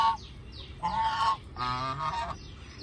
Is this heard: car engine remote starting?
no